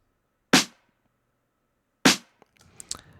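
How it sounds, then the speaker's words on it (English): Two sharp, dry snare drum hits about one and a half seconds apart, each decaying quickly, unprocessed with the effects rack off, followed by faint rustling and small clicks. "we could hear that the snare sounds like this"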